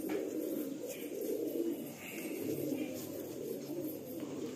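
Malwai and Madrasi pigeons coo continuously in a group, overlapping soft throaty coos that roll on without pause, close and moderately loud, with faint chirps above.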